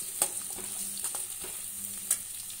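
Onions sauté on a medium flame for a fish curry, a soft continuous sizzle with a few light stirring scrapes and taps, quiet and close, no talking.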